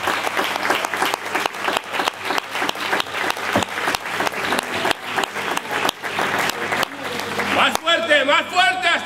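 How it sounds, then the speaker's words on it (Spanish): A church congregation claps in sustained applause, a dense and steady patter of many hands filling the room. A voice rises over it near the end. "Un aplauso"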